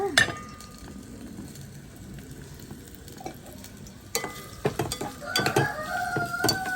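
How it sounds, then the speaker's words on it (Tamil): Onions and green chillies hit hot oil in a pan with a soft sizzle that swells toward the end, joined by sharp metallic clinks and scrapes of a spoon against the pan. "சூடு கொஞ்சம் ஏறினோடனே வெங்காயத்தை போடுங்க. வெங்காயம் பச்சை மிளகாய் போடுங்க."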